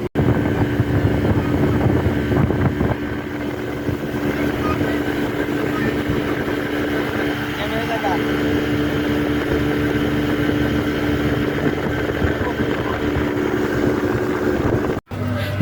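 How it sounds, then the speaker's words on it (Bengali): A speedboat on the Shitalakshya River drones with a steady, close engine roar throughout, mixed with wind rush and broken only by a brief dropout near the end. "স্পিড বোটের ড্রাইভার দক্ষতার সাথে স্পিড বোটটি চালাচ্ছে"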